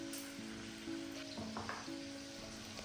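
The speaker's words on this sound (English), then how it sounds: "in a saucepan, I have added some butter, and into them I have added some chopped garlics, cooked them for a minute, and then added 5 medium-sized chopped tomatoes" Butter sizzling in a saucepan with chopped garlic and five medium chopped tomatoes, a steady close frying crackle with faint occasional stirs and a low background hum.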